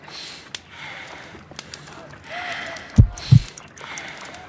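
Heartbeat in the detective game Sherlock Holmes: Crimes and Punishments, a single deep lub-dub pair of low thumps standing out over a quiet ambient background with some voice.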